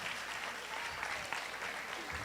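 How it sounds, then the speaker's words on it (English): Faint, distant clapping fills the room at a middle and junior varsity athletics awards event, a steady patter of many hands honoring the shot put and discus throwers. "So give them a round of applause."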